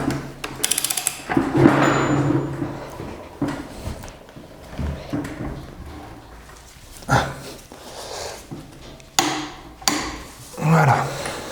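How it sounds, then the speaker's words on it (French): A pin punch is hammered against a nut to lock it while a Peugeot 205 GTI gearbox is being reassembled. It gives a few sharp, scattered metallic knocks among quieter workshop clatter and handling noise. "Un petit coup de chasse-goupille là, pour bloquer l'écrou"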